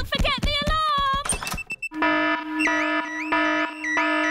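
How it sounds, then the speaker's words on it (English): A toy house alarm in a Peppa Pig stop-motion scene goes off after a few knocks and clatters, settling into a loud, steady, repeating electronic warble. "Daddy Pig has set off the noisy house alarm."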